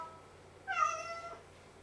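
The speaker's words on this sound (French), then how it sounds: "c'est mon chat là qui est pas content, il joue" An unhappy house cat lets out a single drawn-out meow, close and fairly clear against a quiet room, lasting well under a second.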